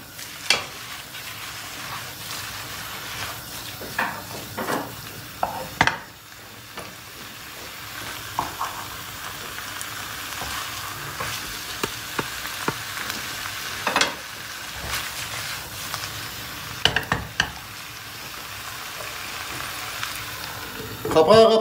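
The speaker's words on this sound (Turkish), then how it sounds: "İkisi de birbirine, sosu da karnabaharı da lezzet versin diye şöyle bir sallayacağız" Cauliflower fried in a pan is shaken together with its sauce, giving a steady close sizzle broken by clattering scrapes and jolts of the pan, with a louder burst near the end.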